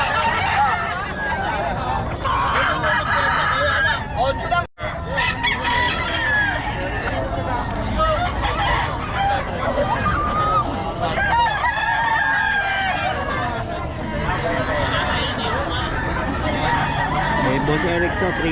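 A Boston Sweater gamefowl rooster crows amid a busy outdoor market scene in Bocaue, where several birds are for sale. Crowing rings out over a steady murmur of people talking throughout.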